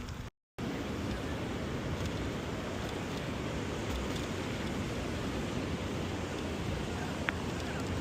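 Waves and wind on a sunny beach, a steady broadband wash of surf and wind buffeting the microphone that continues throughout after a brief dropout at the start.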